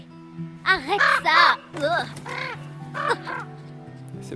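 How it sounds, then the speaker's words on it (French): Crows cawing in the horror video game The Quarry, several loud harsh caws in quick clusters over a steady low ambient hum, no voices. "C'est beau les corbeaux."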